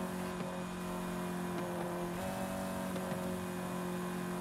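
A car engine in Forza Horizon 5 drones steadily at a constant, fairly loud level throughout, with a sustained low hum and no talk over it.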